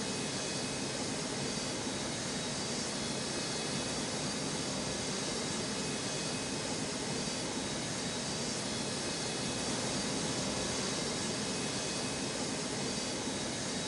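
Steady, broadband jet roar of an airliner landing on a snowy runway in an airport control tower game set at Washington Reagan National, a continuous whooshing rumble with no talk.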